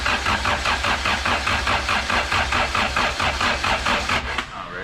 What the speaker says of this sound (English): Go ahead, crank it till she has got oil pressure.